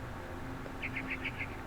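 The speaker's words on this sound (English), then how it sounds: "Then I heard chirping outside my window." A barn swallow chirping outside a window in What Remains of Edith Finch, a quick series of five faint, high chirps over a low steady ambient hum.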